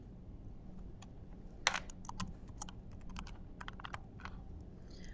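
Someone types a username on a computer keyboard, a quiet run of close, irregular key clicks and taps with no talking.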